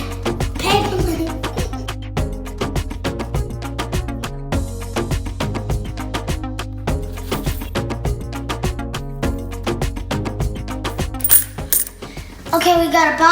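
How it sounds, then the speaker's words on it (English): Coins pour steadily from a piggy bank into a box, a dense, continuous metallic clinking and jingling that runs throughout at close range, with a voice briefly audible near the end. "Now we're gonna take them out of the piggy bank and put them in here."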